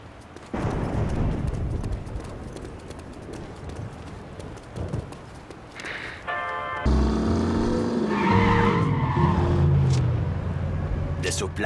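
Car driving and skidding in the video game The Saboteur, set in wartime Paris, runs under busy game sound and overlapping speech; the engine and tire noise is steady throughout, with a brighter burst of sound in the second half.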